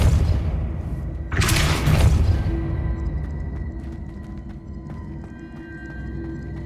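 A Depulso spell impact in the Hogwarts Legacy video game: one heavy, booming burst with a sharp whoosh that rises suddenly, then decays into a low rumble over ambient game music.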